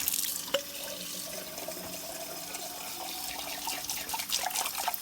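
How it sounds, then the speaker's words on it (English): Tap water runs steadily into a jar, rinsing vinegar off rusted metal, making a soft, continuous splashing trickle with a few brighter splashes, fairly quiet and close, with no voices. "This will just kind of rinse all that vinegar off of there"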